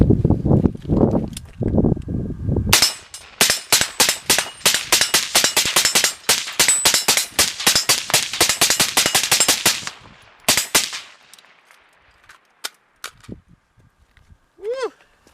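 A rifle fires about thirty rounds through a vinyl-wrapped Gemtech M402 suppressor in a rapid, loud, closely spaced string of sharp reports lasting several seconds. A voice speaks before the string, and a few scattered clicks and a short whistle follow it.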